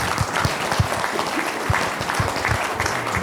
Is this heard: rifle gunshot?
no